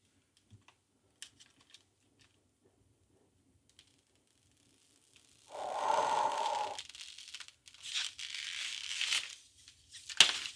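Protective plastic film being peeled from new computer hardware during a PC build, a close crackling, tearing rustle in short bursts after near silence, with a few faint taps.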